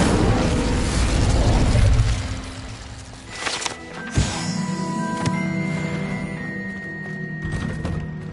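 A fire spell cast in Hogwarts Legacy, a video game: a loud whooshing, roaring burst that dies away over a couple of seconds and is followed by sharp magical thuds and a ringing, sparkling tail.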